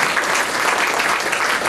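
A room full of people gives a round of applause at a public meeting, continuous dense clapping that stays loud and even from start to finish.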